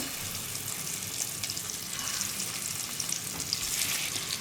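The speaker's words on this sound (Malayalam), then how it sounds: "ഈ സെയിം എണ്ണയിലേക്ക് തന്നെയാണ് ഞാനിപ്പോൾ നമ്മൾ മസാല മിക്സ് ചെയ്ത് വെച്ചിരിക്കുന്ന മുട്ടയൊന്ന് വെച്ച് കൊടുക്കുകയാണ്" Masala-coated boiled eggs frying in hot oil for egg biryani give a steady, close sizzle and crackle that continues alone without any voices.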